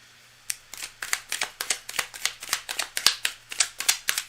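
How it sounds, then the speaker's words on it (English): Tarot cards shuffled by hand in a steady run of crisp riffling bursts, about two to three per second, close and clear with no talking. "Cards are already well shuffled"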